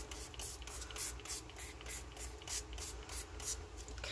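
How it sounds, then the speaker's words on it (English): A spray bottle of coffee dye fires repeatedly in quick, regular bursts, about a dozen close, breathy hisses in a steady rhythm. "I'm just going to spray it with that coffee spray and just coffee dye it real quick."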